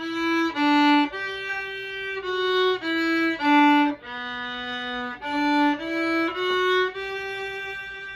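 A violin plays the closing phrase of "Cielito Lindo" in sustained notes, clear and close, with brief breaks between groups of notes.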